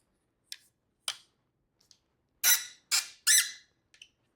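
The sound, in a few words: squeaking tripod light stand being adjusted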